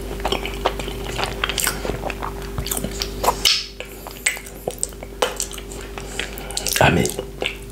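A matcha chocolate cupcake with cream cheese filling is eaten close to the mic, with repeated soft bites, wet squishy chewing and small clicks, plus one louder bite burst near the end.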